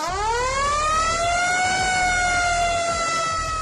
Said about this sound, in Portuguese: Muitos ainda lembram da clássica sirene dos caminhões dos bombeiros americanos,